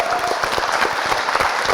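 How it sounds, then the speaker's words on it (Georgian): Brisk, close audience applause rings out at a school quiz-show final, many hands clapping in a dense continuous burst from start to finish. "აპლოდისმენტები კიდევ ერთხელ"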